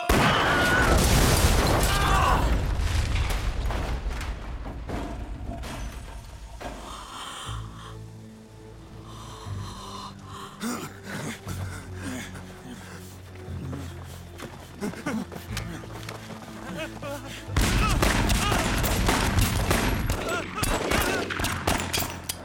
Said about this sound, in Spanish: Siempre disparando al aire.